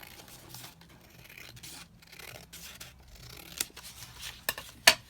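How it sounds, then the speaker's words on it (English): Scissors cut paper for a holiday journal page, quiet close rustling and rubbing of paper followed by a few sharp, distinct snips toward the end. "Just snip that down."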